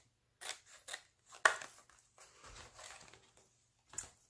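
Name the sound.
scissors cutting out paper for a scrapbook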